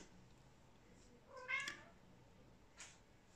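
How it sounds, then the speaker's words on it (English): A cat gives one clear meow in the background of a quiet room, followed by a fainter short second call. "That's my cat meowing in the background there."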